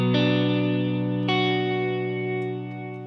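An electric guitar runs through a Line 6 Pod Go delay on a church preset, and two strummed chords ring loud and sustained with repeats that fade into a smooth, echoing tail. No one speaks.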